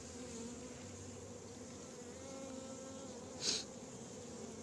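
Honeybees buzz around a hive during queen rearing, a steady faint drone with one brief louder buzz passing close near the end, and no voices.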